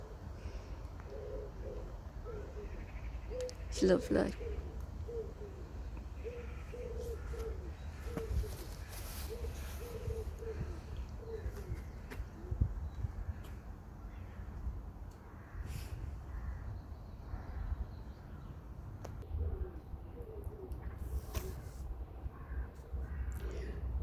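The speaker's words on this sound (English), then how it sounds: "Hear the birds cooing." Pigeons or doves in a small neighborhood park coo softly in repeated low phrases under quiet outdoor ambience, with a brief remark spoken partway through.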